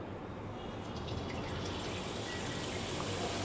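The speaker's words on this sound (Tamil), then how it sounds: "இப்போ வந்து நம்ம கரண்டியில் வந்து கொஞ்சம் கொஞ்சமாக மாவு எடுத்து ஊற்றிக்கிறோம்" Boondi batter poured a little at a time from a ladle into hot frying oil for laddu, giving a steady close sizzle with a soft liquid trickle throughout, no talking.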